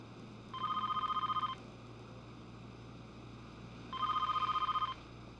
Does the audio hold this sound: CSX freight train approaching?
no